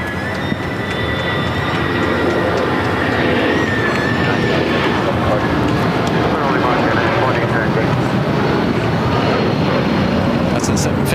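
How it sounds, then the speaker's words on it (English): Boeing 757-300 airliner at LAX bound for Denver, a loud steady jet roar with whining tones throughout, with people talking over it. "That's a 757-300 heading to Denver, flight 2089."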